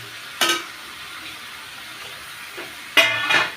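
Chicken leg pieces go into a hot pan of cooked-down masala, each drop setting off a short sharp sizzle over a low steady frying hiss, with a couple of brief stirring bursts.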